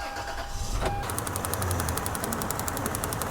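A Toyota 4Runner engine with a misfire cranks and starts after about a second, then settles into a steady, fairly loud idle with a rhythmic ticking pulse throughout.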